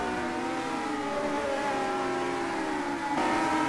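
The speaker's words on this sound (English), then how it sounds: "The cars are so loud, actually, for such small engines." Small-engined formula racing cars in a sim racing game, screaming loudly in a continuous high whine whose pitch shifts as the engine revs change, heard close and alone.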